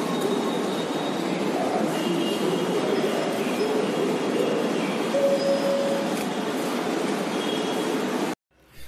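A Rapid Metro train in Gurgaon runs steadily with a loud rumbling roar and faint squeals, then the sound cuts off abruptly near the end.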